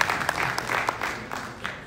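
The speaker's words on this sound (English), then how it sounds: "Ladies and gentlemen, a big round of applause for this Walton MD." An investor summit audience applauds after an introduction, a brief burst of scattered clapping from a modest crowd, with distinct individual claps standing out over a thinner wash.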